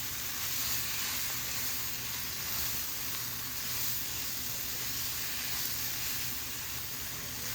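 Garlic cherry tomato pasta stirred in a hot pan gives a steady, close sizzle and frying hiss that holds evenly for the whole stretch, with faint stirring underneath and no voices.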